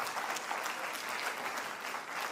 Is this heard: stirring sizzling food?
no